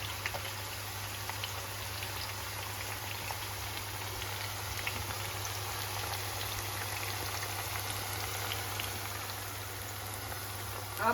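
Onions fry in a pan for nargisi kofta, giving a steady, even sizzling hiss throughout with a constant low hum beneath and no clear breaks.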